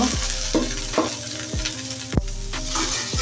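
Chopped onion and chili fry in oil for potol (pointed gourd) bhaji, a steady close sizzle broken by a spatula scrape roughly every half second.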